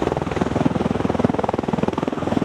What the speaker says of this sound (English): Here you see the Osprey doing a 360-degree spin while hovering over a single spot.